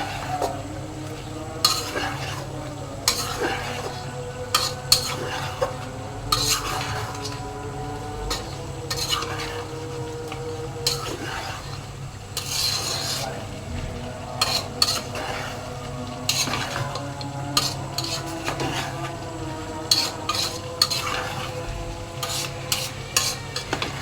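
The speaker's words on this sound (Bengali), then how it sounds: "এখন আমি সবগুলোকে মিক্স করে কষিয়ে নিব।" Beef with onions, salt, turmeric, chili, panch phoron and garam masala fries in a pan, a steady sizzle under repeated spatula scrapes and clinks against the pot, close-up and without talking.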